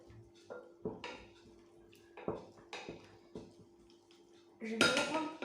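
Chopped bell pepper and small pieces of knacki sausage stirred together in a dish, giving a series of close clinks and scrapes of utensils against the bowl, with a brief louder clatter near the end.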